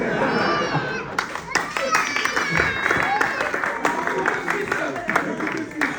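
Comedy club audience breaking into applause, a dense patter of clapping hands that swells and persists under a voice addressing the crowd.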